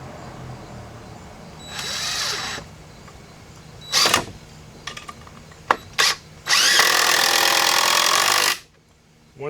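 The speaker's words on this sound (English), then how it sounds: "Now use 3-inch deck screws." A power drill drives 3-inch deck screws into recycled lumber for greenhouse benches: several short whirring bursts are followed by one long, loud, steady run near the end, all close and without talk.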